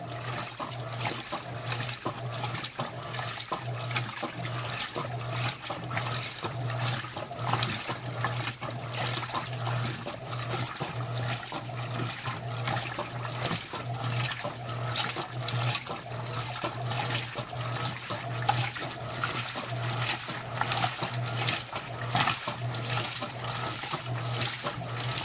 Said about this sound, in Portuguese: A lavadora começou a drenar, então essa daqui é a água de terra que eu tô falando.